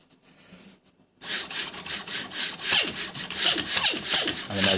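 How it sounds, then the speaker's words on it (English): A 3D printer stepper motor running at the normal 12 volts stalls, giving a loud, harsh grinding and buzzing with repeated rasping surges that carry on steadily after a brief quiet start. "the motor starts stalling and making horrible noises"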